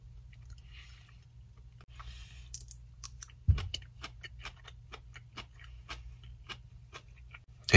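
Raw cabbage being chewed up close, a run of crisp, irregular crunching clicks starting partway through and continuing steadily against a low background hum, with no talking.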